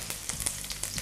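Curry leaves crackling and spitting in hot oil in a pan, a close, dense sizzle with sharp pops scattered through, no voices.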